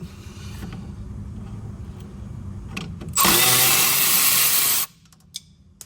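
A power tool spins up for about one and a half seconds, loud and close, backing out the bolts holding a Honda Fit rear wheel cylinder to the brake backing plate, with quieter workshop noise before and after.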